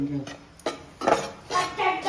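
A spatula scrapes and stirs against a metal pan (kadhai) on a gas stove, roasting rice flour, in a few short, close bursts, with no one talking.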